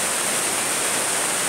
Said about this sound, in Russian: Вот, река Ляхва утекает это в сторону Грузии.